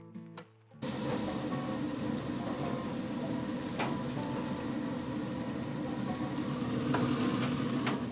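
Frozen burgers sizzle on a Pit Boss grill right after being flipped, a steady close crackling hiss that swells in after a brief quieter moment and runs continuously with occasional sharp pops.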